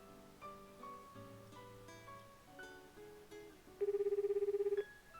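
A cell phone call rings in the visual novel The Fruit of Grisaia, soft melodic tones first, then a loud buzzing ring pulse near the end, with no voices.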